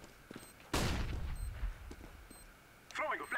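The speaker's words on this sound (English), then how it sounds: "I'm throwing flashbang." A flashbang grenade goes off in a tactical shooter game, a sudden loud broadband blast followed by a ringing decay, with players talking over the din.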